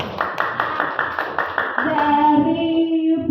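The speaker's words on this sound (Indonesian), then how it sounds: "tepuk tangan ya" A teacher group at a school training session gives a short run of rhythmic, evenly spaced hand claps, fairly close, after which a sustained tonal sound takes over toward the end.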